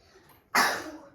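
A single short, sharp burst of breath bursts out suddenly against quiet background, close and fairly loud, like a sneeze.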